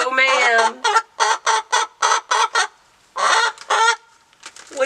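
Several backyard hens cluck and squawk in quick loud bursts at close range, with short pauses between calls and no talking.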